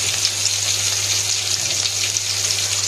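Onions frying in hot oil in a home kitchen give a steady, loud, close sizzle that hisses evenly without a break and carries no voices.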